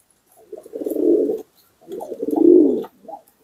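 Two long, rolling coos from kolong and racing pigeons, each swelling and fading over about a second, close and fairly loud with a short gap between them and a softer call at the end.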